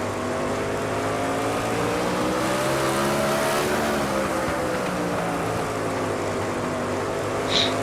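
Loud, unbroken howl of sprint car engines racing in iRacing at Southern National Motorsports Park, pitches rising and falling as cars jostle around a lapped car, one engine note swelling briefly midway.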